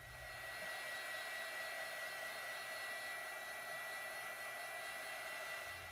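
A hair dryer blows steadily over a mixed media art piece, a constant loud whooshing hum that runs without a break, close up with no talking.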